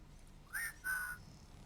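Two short soft whistled notes in Wasteland 3, one after the other, faint and alone against a quiet background.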